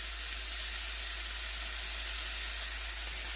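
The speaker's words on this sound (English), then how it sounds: "So here's our tilapia. We just are sauteing that in the pan with some olive oil" Tilapia sautés in a pan with olive oil, a steady, dense sizzle and hiss that holds even and close throughout with no talk.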